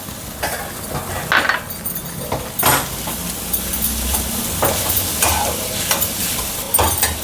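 Capsicum and carrot being stirred into roasted gram flour with cumin and coriander in a pan for hara bhara kabab, with steady scraping strokes and a light sizzle throughout, close and fairly loud, with no talking.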